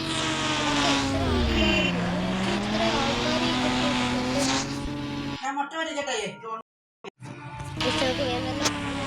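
Video game car driving with squealing tires, a loud continuous engine drone that rises and falls for several seconds before cutting out briefly near the end and then returning.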